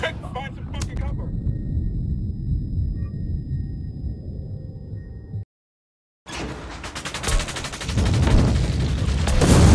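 Gunfire in Ghost Recon Wildlands, with a sustained burst of rapid automatic fire and booms, then a brief dead silence, then renewed dense shooting that grows louder toward the end.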